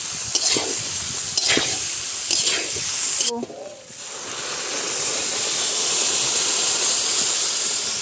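Boiled peas stirred in a kadai with chilli powder: a spoon scrapes rhythmically a few times, then a steady sizzling hiss of frying rises and holds close and loud.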